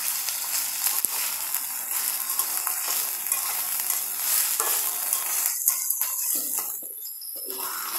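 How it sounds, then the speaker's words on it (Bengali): Onions with garlic and green chilies sizzle steadily in a hot pan while being stirred, a dense continuous frying hiss with small scraping accents, loud and close, no voices. "পেঁয়াজটাকে একটু নেড়ে চেড়ে দিচ্ছি ভালোভাবে"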